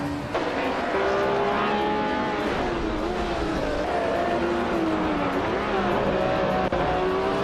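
Race cars including a Corvette, BMW and Zakspeed roar along a track on a long straight, a steady loud engine drone with pitch rising and sagging as the cars accelerate and shift.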